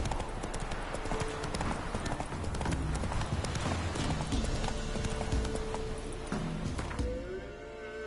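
Roach the horse galloping in The Witcher, rapid rhythmic hoofbeats close by that continue steadily, then ease off near the end.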